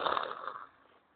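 A voice imitates an explosion with a short, breathy, rasping burst that is loudest at the start and fades out within about a second.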